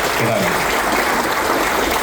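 A crowd claps loudly and continuously at a police farewell ceremony for the outgoing Surat rural police chief, a dense, steady wash of applause throughout.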